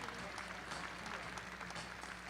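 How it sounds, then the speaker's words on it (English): Audience applause for a youth team division at an event, a steady, fairly faint wash of clapping throughout with a low background hum. "would you give them a nice round of applause for our third and final division in our youth teams?"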